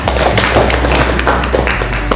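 A classroom of students clapping for a classmate, a loose scatter of sharp hand claps over a steady low electrical hum, fairly close and loud.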